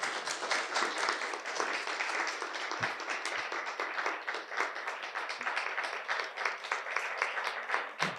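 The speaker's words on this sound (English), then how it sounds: "Let's give him a hand." A poetry series audience welcomes the poet Anatoly Molotkov with warm, steady applause. The many hands clap continuously at a moderate level throughout, with no talk.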